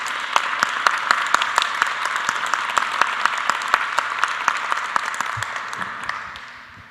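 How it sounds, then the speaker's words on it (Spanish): Applause at a cultural tribute event, with distinct individual claps audible in a moderately sized audience, sustained at an even pace before gradually fading away toward the end. "yo pediría un aplauso para Barbarita antes que nada, por favor"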